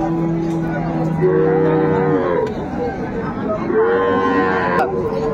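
Loud, close moos from dairy cows of Sahiwal, Sindhi and local breeds at Ambari cattle market, several long drawn-out calls overlapping, with a short pause before another deep moo, against a low background murmur.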